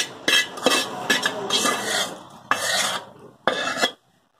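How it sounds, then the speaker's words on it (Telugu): Raw mango pieces being mixed with heated oil for pickle, rough rasping, rubbing strokes in several bursts, close and fairly loud, ending abruptly in silence. "ఈ మామిడి వక్కలు మొత్తం మిశ్రమంలో ఈ నూనెను కలపాలి"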